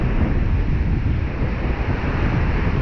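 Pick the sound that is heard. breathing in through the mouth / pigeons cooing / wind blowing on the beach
wind blowing on the beach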